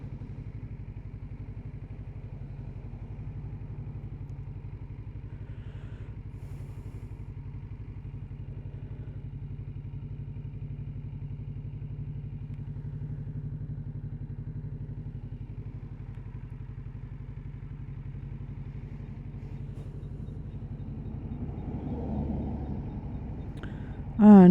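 A Kawasaki Z650RS motorcycle sits idling under a tree, its engine a steady low rumble for the whole stretch, with a brief louder knock at the very end.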